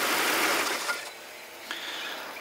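An Audi car engine with a hydraulic tensioner knocking fault is switched off. Its close, loud running noise drops away after about a second, leaving a quieter fading hum.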